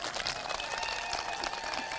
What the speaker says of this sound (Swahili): eni meha makofi